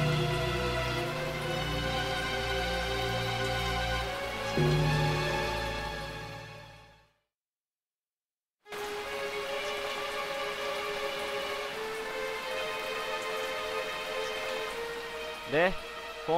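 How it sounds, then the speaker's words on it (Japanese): Steady rain falling outdoors in a village, a continuous broadband hiss that drops out briefly and then returns, with a tonal rising sweep near the end. "外はまだ雨だぞ。"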